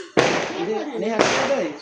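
A firecracker bursts with a sharp crack during a Diwali celebration, followed about a second later by a second bang, with excited voices talking and calling out around the blasts.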